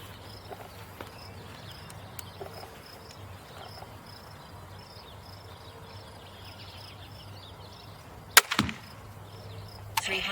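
An arrow fired through a ProChrono DLX chronograph makes one sharp, sudden snap near the end of a long quiet stretch full of insect and cricket chirping, followed a moment later by a fainter second crack.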